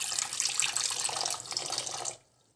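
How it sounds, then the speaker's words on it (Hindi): Water pours steadily into a pot holding sugar for a sweet syrup, a close, bright splashing stream that runs for about two seconds, then stops abruptly into quiet. "आधा कप पानी डालेंगे,"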